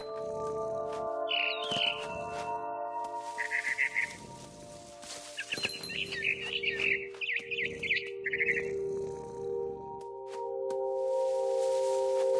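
A frightened bird in the video game What Remains of Edith Finch gives repeated short chirps and tweets over a steady tonal hum, scattered across several seconds at moderate loudness.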